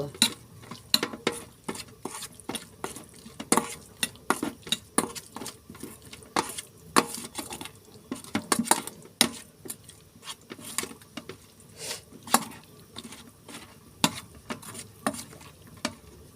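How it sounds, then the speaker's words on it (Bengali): Dried fish (shutki) being hand-mixed with mustard oil for a shutki paturi, giving close, wet squelching and sticky clicks in an irregular, busy rhythm with no talking. "আমি সুন্দর করে শুটকিটা মেখে নিব"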